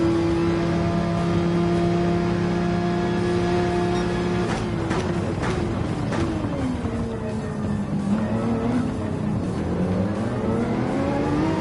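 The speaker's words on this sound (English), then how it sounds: "We can now hear the AMG," A loud AMG race car engine in Gran Turismo 7 at the Red Bull Ring roars steadily, its pitch rising and falling through gear changes, with sharp bursts as it revs hard throughout.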